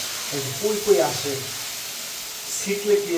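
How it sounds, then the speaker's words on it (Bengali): Noodles frying in a pan give a soft, steady sizzle and hiss with occasional stirring scrapes, moderately close, while a voice talks briefly over it. "এখন হচ্ছে আমাদের নুডলস রান্না করা"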